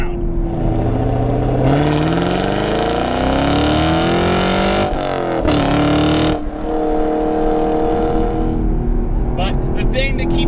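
The 6.2-liter LT1 V8 of a Chevrolet Camaro SS 1LE roars loudly as it accelerates through rising revs, then shifts and climbs again, with a voice talking over the engine.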